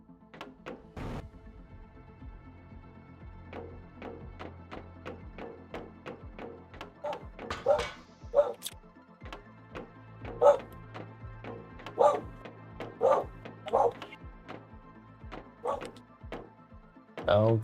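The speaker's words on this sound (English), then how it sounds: "Dog barking at something." A dog in the Planet Crafter video game barks repeatedly in sharp, separate yaps with short pauses between them, growing louder and more frequent in the second half against a quiet, low hum.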